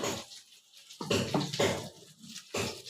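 Raw cooking oil poured generously into a dish for steamed hilsa fish, heard as a few short liquid pouring bursts at close range, with quiet gaps between them.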